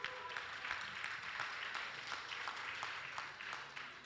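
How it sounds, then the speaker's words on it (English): An audience at a powerlifting championship in the Cayman Islands gives a round of applause, fairly quiet, distinct claps in a steady rapid patter that tapers slightly at the end. "So give him a big round of applause."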